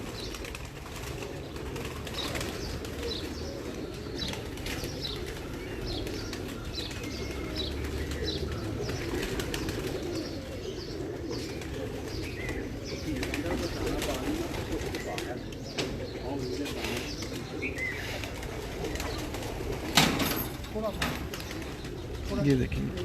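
Loft pigeons coo in a continuous low murmur, with occasional wing flutters and a few sharper knocks near the end, while someone talks over them.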